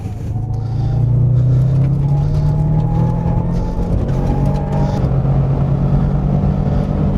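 A MY08 Subaru Impreza STI at speed on a wet race track, heard from inside: a loud, sustained engine drone rising slightly in pitch under heavy throttle, with road and wind roar throughout.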